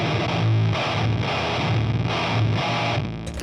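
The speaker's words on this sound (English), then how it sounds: "I've activated the swollen pickle to really make it sound really gnarly." Heavy, gnarly electric guitar riff through a Swollen Pickle fuzz pedal, thick distorted chugs in a repeating rhythmic pattern, loud and up front, with nothing else heard.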